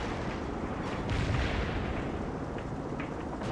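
Incoming artillery fire in the video game World in Conflict, a dense, continuous rumble of distant booms and blasts with no clear gaps, steady and fairly loud throughout.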